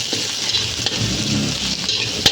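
Dried red chillies frying in oil for a dry anchovy roast make a continuous close sizzle with occasional sharper pops and a louder crackle near the end.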